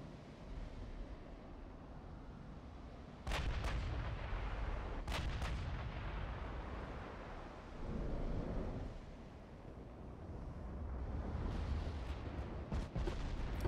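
Naval cannons fire in the Ultimate Admiral: Dreadnoughts video game: several heavy booming blasts land a few seconds apart over a constant rumbling battle bed, loud and near, with no speech.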